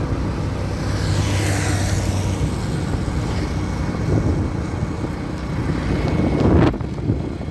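A motorbike ridden along the Vadodara highway toward Chhapi, giving steady road and engine rumble mixed with heavy wind buffeting on the microphone, with a brief louder rush near the end.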